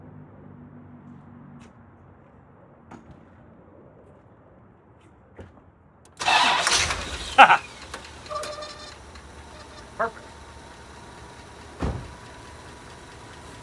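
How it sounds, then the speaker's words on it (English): A 1985 Rolls-Royce Corniche, just hosed down, fires up with a sudden loud catch after quiet clicks, then settles into a steady low idle broken by a few sharp knocks; one short word is spoken. "See if it starts after being hosed down."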